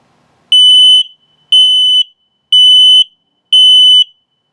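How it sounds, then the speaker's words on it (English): A camper's LP/carbon monoxide detector sounds its low-battery alert: four loud, shrill, evenly spaced electronic beeps, each about half a second long, with silence between them and no talk. "then it'll alert the low battery, just so you can hear it."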